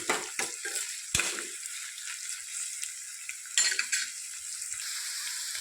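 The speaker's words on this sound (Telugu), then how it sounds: "ఇవి కొంచెం గోల్డెన్ కలర్ వచ్చేంత వరకు వేయించుకోండి." Chopped onions frying in a pan until golden for a drumstick curry, a steady close sizzle broken by a few sharp clinks and scrapes of stirring early on and again near the end.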